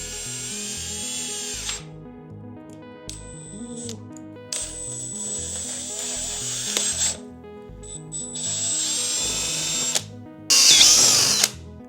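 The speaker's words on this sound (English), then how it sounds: "So I'm gonna drill 8mm hole for this." Power drill boring an 8mm hole through a polycarbonate plate, with whining bursts that start and stop, ratcheting clicks, and a sharper screech near the end.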